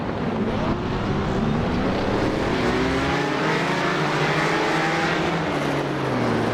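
A GT race car engine in the iRacing sim game drones loudly and continuously, its pitch sweeping down through gear changes before climbing again, with no talking.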